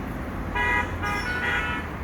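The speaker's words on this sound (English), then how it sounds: "on my both sides there are highway, so you can hear the trucks and loud noises" Steady traffic roars from highways on both sides of a small roadside park, with trucks passing nearby and short horn toots sounding over the constant road noise.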